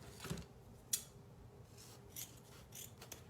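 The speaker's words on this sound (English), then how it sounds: "Those are the wrong scissors." Craft scissors cut ribbon for a mini pumpkin wreath in a few faint, quiet snips and rubbing sounds spaced across a few seconds, heard up close with no talk.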